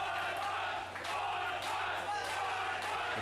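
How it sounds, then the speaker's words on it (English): Wrestling crowd at a triple threat match chanting together, a broad roaring wash of many voices with rhythmic swells, steady and distant-sounding. "The crowd seems to be chanting for One Punch."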